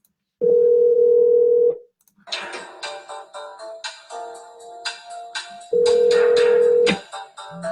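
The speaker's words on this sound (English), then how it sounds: "Number 1 on the speed dial." A phone dialing a speed-dial number: a steady dial-type tone, then a rapid run of tones and ringback-like beeps, then another long steady tone, all loud and close with no talking.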